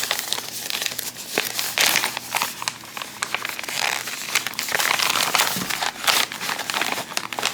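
Paper pattern sheets from a Christmas Cats stamped cross-stitch kit are handled up close, giving repeated crisp crinkles and rustles in irregular bursts with no one speaking.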